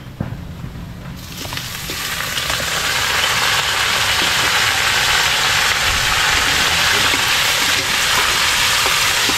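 Pakul fish dropped into a hot pan of softening onions, a loud, steady frying sizzle that swells after a quieter start and holds through to the end, with no talking.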